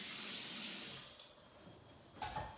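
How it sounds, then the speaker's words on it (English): Water running from a kitchen tap while hands are washed, a steady splashing stream that eases off, followed by a short gush near the end, close and soft. "Wash my hands."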